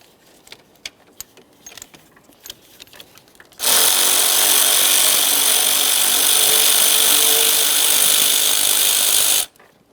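A power tool whirs continuously for about six seconds while an 8mm bolt is removed near the radiator and cooling fan of a 2013-2020 Ford Fusion 2.0L, preceded by light tool clicks and handling noises.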